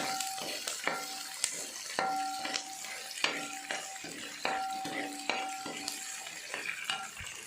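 Green chilies being stirred into a cooking mixture in a pan for traditional puli inji, with repeated scraping strokes of a spoon and clinks against the pot over a soft sizzle, close and steady.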